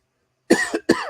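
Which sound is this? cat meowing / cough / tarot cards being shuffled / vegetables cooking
cough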